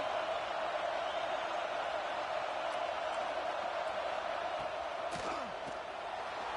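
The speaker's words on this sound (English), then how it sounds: "Listen to the crowd energy here in the early going" A home crowd roars steadily at an American football game, a dense, continuous wall of cheering in a tough stadium environment for visitors, with a few sharper shouts near the end.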